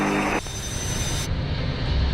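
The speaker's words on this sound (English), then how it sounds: "There goes the flyby view. The good old 727." A Boeing 727 jet in Microsoft Flight Simulator rushes past in a brief flyby, a dense roar that thins out partway through, steady and fairly quiet with no talk.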